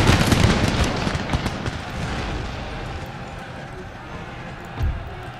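A ragged musket volley in a Napoleonic-era battle game against Sikh warriors in Hyderabad: dense crackling gunfire bursts loud at first, then thins into scattered pops with a low thump near the end.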